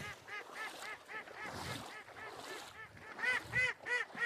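Ducks quacking in a rapid, repeated chorus of nasal honking calls, several birds overlapping close by with steady rhythm and louder bursts toward the end.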